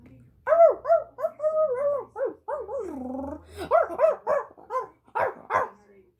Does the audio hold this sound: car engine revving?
no